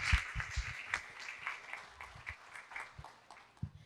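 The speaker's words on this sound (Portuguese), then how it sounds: "receber uma salva de palmas junto com a Yara" Thin, scattered clapping from a small audience at a conference on Amazonian mangroves, fairly faint, with a few sharper individual claps standing out over a quiet room.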